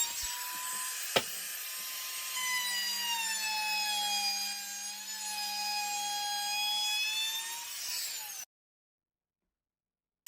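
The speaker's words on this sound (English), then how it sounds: "With my modified jig, I'll add a chamfer to the upper sides of my slats." Wooden Adirondack chair slats are chamfered on a modified jig, a steady high-pitched router whine running for about eight seconds after a sharp click, then cutting off to silence.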